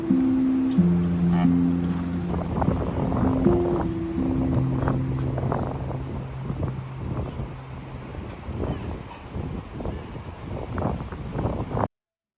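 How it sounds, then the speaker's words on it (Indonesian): Strong morning wind blows at a family campsite, a constant rushing roar close to the microphone with gusty buffeting and a few faint background sounds. "Semalaman angin terus berhembus tanpa jeda, bahkan terus bertiup cukup kencang sampai pagi ini."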